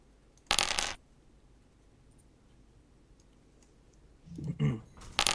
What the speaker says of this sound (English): I'm going to roll a dice for this